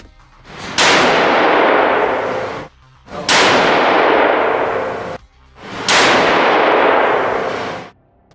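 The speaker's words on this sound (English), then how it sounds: "Five clicks up, and I'm gonna take three more shots." Three shots from a .270 Remington 700 ADL rifle firing Hornady American Whitetail ammunition at a shooting range, each a loud sharp crack followed by a long ringing decay lasting about two seconds, spaced evenly, close and alone.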